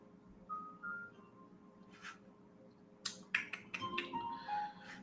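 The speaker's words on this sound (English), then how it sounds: "Shuffling." A deck of psychic reading cards being shuffled, heard as faint rustles followed by a burst of quick, crisp riffling snaps, close and quiet against a low background hum.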